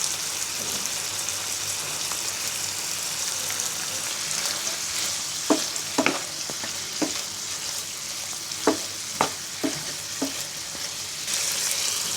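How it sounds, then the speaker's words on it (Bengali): Meat sizzles steadily as it fries for biryani, with a run of spatula clacks and scrapes against the pan midway through. "মাংসটাকে কষিয়ে নিব।"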